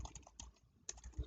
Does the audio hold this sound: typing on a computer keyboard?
yes